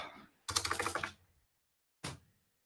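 Rapid typing on a computer keyboard comes in a quick burst of close, crisp key clicks, followed after a pause by a second, shorter clatter of keys.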